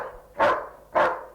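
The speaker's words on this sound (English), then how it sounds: "It's a friend, a good dog." A dog barks twice, two loud close woofs about half a second apart, each with a short trailing tail, with nothing else audible.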